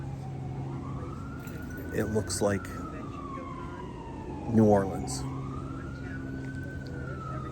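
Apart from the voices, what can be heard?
emergency vehicle sirens in New Orleans street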